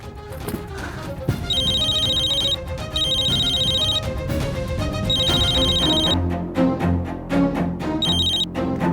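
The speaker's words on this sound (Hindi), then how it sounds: "माँ का फोन बजा," A phone rings in repeated electronic bursts over a busy, loud background with music and commotion.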